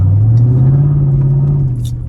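A 2004 Mercedes SL55 engine rumbles loud and deep in a sustained revving drone close by, then eases off near the end.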